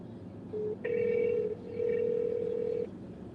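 A telephone gives electronic dialing tones: a short beep, then two longer steady tones with a brief gap, clear and close over a low background hum.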